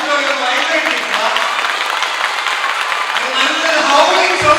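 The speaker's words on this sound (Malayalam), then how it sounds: "ഒരു മികച്ച കൈയടി കൊടുക്കാൻ നമുക്കിരിക്കാം." An audience in a college auditorium claps at the end of a motivational speech, producing a steady, dense wash of applause.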